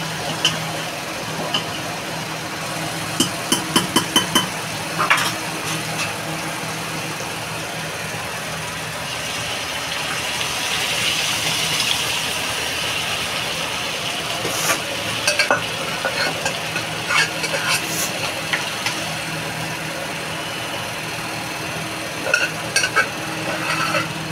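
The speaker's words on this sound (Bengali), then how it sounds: "আমি এবার ডালটা ঢেলে দেবো।" Cooked five-lentil dal poured into a hot tadka and stirred, with a steady loud sizzle and bubbling throughout, plus occasional sharp scraping clicks of a spoon against the pan, close and continuous.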